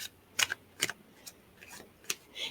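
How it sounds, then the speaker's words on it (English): Tarot cards are shuffled by hand, giving a few sharp, separate riffling snaps and taps spaced irregularly over a quiet background, close and crisp, with no speech. "I'm going to shuffle a little bit more."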